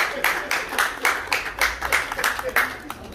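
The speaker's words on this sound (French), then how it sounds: "Est-ce qu'on peut applaudir très très fort?" Crowd applause for Pierrot Ndombasi at a Congolese wedding celebration, steady rhythmic clapping over about three seconds with regular pulses, moderately loud and somewhat distant, blended with background crowd noise.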